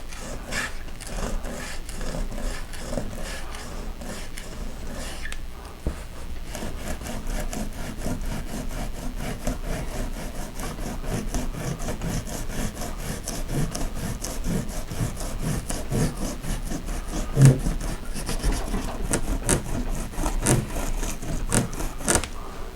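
Fingers rubbing and peeling dried masking material off a watercolor painting of Central Park, a steady close-up scraping and rustling texture that continues throughout with slight rises and falls.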